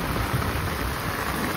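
Heavy monsoon rain pouring steadily in Konkan during a thunderstorm, a constant hissing wash with faint low rumble beneath, moderately loud and unbroken.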